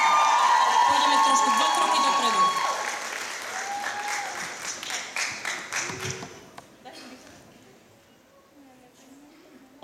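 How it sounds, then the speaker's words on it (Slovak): Audience applause and cheering at a K-pop dance contest at a comics convention, loud and dense at first, then thinning into scattered claps and fading out as a host speaks over it. "potlesk ešte trošku."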